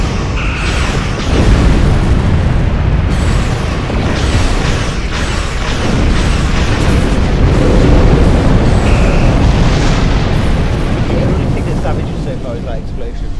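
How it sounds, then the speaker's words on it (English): A rumbling explosion from the space game Star Trek Online, starting with a sharp burst and rolling into a sustained loud roar that holds for many seconds. "Damage so far is that explosion"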